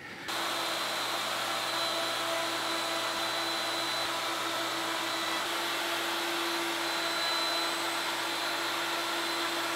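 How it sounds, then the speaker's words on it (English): A woodworking router fitted with an eighth-inch radius round-over bit shapes the edges of rails and legs for a wine hutch, giving a steady, loud high-pitched whine that runs continuously throughout without pauses. "round over some edges on the rails and all of the edges on the legs using an eighth inch radius round over bit"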